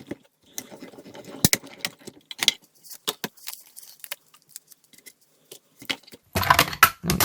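Card stock cranked through a manual die-cutting machine with stacked plates, giving a series of irregular mechanical clicks, rattles and grinding bursts at close range, ending in a louder, denser stretch of rolling crunch.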